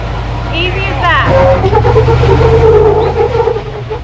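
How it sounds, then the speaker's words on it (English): A custom-built Jeep climbing over a trail obstacle, its engine revving and straining loudly up close as people talk over it. "As soon as your front tire comes up over it, just drive up it."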